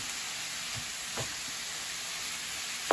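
Cabbage stir fry sizzles steadily in a pan, a continuous close frying hiss with a few faint stirring clinks and one sharper knock near the end.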